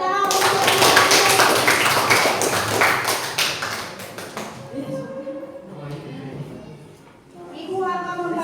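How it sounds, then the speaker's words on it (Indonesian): A class of schoolchildren claps together in a classroom, a quick busy patter of many hands for several seconds that fades out as a teacher's voice takes over. "Tepuk tangan."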